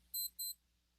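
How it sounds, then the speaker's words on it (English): Two short, bright electronic beeps sound in quick succession as an on-the-hour time signal during a radio news show, then fade to a quiet hum. "that beep indicates that we're right on time"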